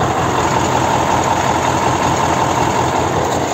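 A truck engine idles steadily after stalling, a loud continuous low rumble with an even drone and no talking.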